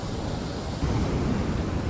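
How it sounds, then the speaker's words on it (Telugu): Ocean waves at a beach wash in as a steady, broad roar with some wind rumble, continuous and fairly close, with no voices. "నేను కూర్చొని అట్లా అలలు చూస్తా"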